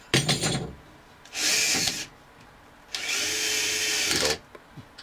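A power drill drives a screw into wood for a desk build in two sustained whirring bursts, loud and close, with a few clicks and handling knocks in between and no talking.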